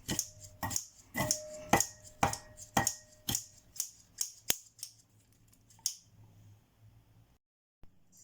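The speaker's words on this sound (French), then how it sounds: "n'hésitez pas à recouper comme ceci dans votre petit saladier" Kitchen scissors snipping parsley and mint finely in a small bowl, a run of sharp, crisp cuts in quick rhythm that slows and thins out toward the end, close and clear with no talk.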